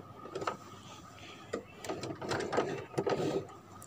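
A sewing machine stitches a t-shirt sleeve in quiet, close bursts of rapid ticking and mechanical whirring, starting and stopping irregularly.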